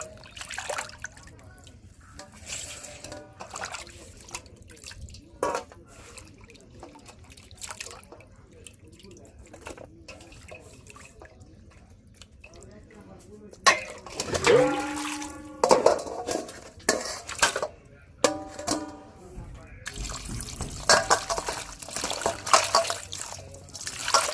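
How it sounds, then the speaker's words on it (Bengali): Four kinds of fish, koi, taki, shol and bhali, being scrubbed with salt in water: steady drips and trickles with light handling at first, then louder sloshing, splashing and clatter in the later half. "কই মাছ টাকি মাছ শোল মাছ আর ভালি মাছ এগুলো লবণ দিয়ে ভালো করে ধুয়ে"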